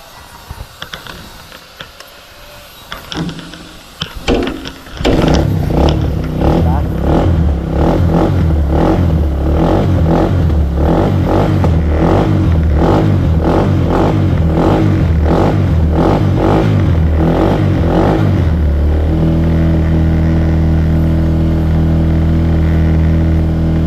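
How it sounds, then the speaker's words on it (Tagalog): After some clattering handling, an engine starts and runs at steady high revs while warming up, loud and close, then drops to a lower, smoother drone near the end. "Kainitin muna natin mga kadedit ang makina bago tayo mag-start."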